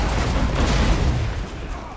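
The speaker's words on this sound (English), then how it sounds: "Still the odd stones coming down on people." Catapult stones crashing down among troops in Total War: Warhammer, a dense two-second rumble of booming impacts and clatter that swells then eases slightly, with no talk over it.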